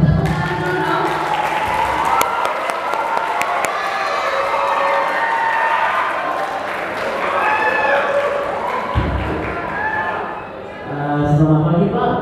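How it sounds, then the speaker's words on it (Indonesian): An audience at a talk show claps and cheers, a lively burst of applause that rises and fades over about twelve seconds, with voices mixed in. "Tepuk tangan dulu dong"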